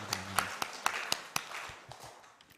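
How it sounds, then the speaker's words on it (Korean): A church congregation claps together during a Sunday morning service, a dense patter of many hands with sharp individual claps standing out, fading somewhat toward the end. "하나님께 영광의 박수 올립니다."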